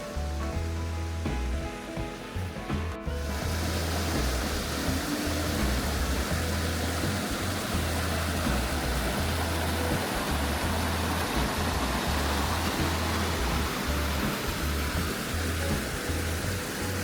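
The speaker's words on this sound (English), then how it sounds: "It's raining. It's been raining all day." Rain falls all day beside Reedy Creek, a steady broadband hiss that fills the whole stretch with a low rumble underneath, fairly soft and continuous, with no voices.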